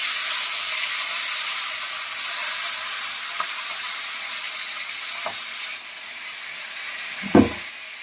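Hilsa fish heads frying in hot oil give a loud, steady, bright sizzle and hiss, with a few small clicks and a sharper clatter near the end.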